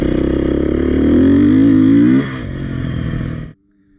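Beta 480 off-road motorcycle engine pulling steadily with a rising rev, then easing off before cutting out abruptly, loud and close with no voices.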